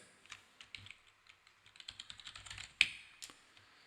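Quiet, close keystrokes on a computer keyboard in an irregular burst, ending with one sharper key press.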